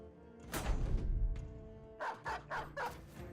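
A dog in the video game Battle Brothers barks, one loud rough bark followed by a quick series of four sharper barks, clear and close with no talking.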